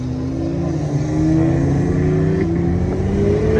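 A BMW M340i engine revs steadily with a rising tone, then drops briefly as a gear shifts before climbing again, loud and close.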